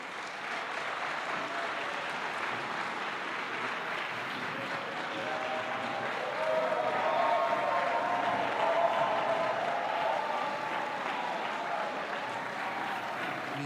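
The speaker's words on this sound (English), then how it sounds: "A rousing applause for her very seminal, quite vigorous speech there." An audience at a university memorial lecture applauds after a speech, long, even clapping at moderate distance that swells slightly midway and continues steadily without talk.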